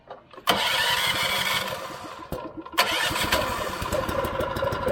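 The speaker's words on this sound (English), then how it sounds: "I'm gonna go ahead and crank the AR up" An AR pressure washer's small engine cranks, catches and roars to life, stumbles briefly, then picks back up into a loud steady run nearby.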